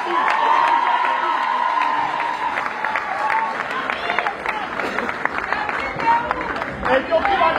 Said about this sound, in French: on applaudit pour le 9 Brigitte.